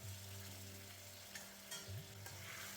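Chicken tikka and mushroom balti curry sizzling in a hot pan with a fresh ladle of base gravy, stirred with steady scraping strokes over a continuous loud frying hiss and a low hum.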